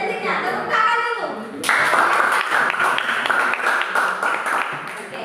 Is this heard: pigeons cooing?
no